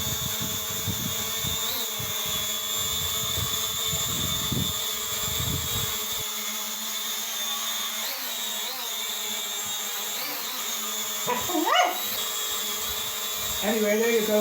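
A Drone X Pro quadcopter hovers and flies indoors in a room, its rotors holding a steady, close, high-pitched whine with brief pitch swoops as it adjusts and a louder surge toward the end.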